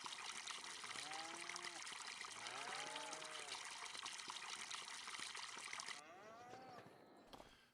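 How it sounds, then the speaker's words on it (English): Buffalo milk pouring into a cheese production facility in Farming Simulator 25, a steady liquid trickle and rush with lowing buffalo calls over it, before the flow cuts off and quiets near the end. "we're going to be able to unload our buffalo milk into the cheese production facility"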